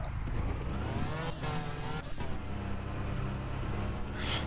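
A video game car with a manual gearbox drives with a steady engine drone, its pitch rising and dropping through gear changes, in Car For Sale Simulator; loud and close, with no talk.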